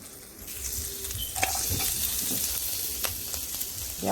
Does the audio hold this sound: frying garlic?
yes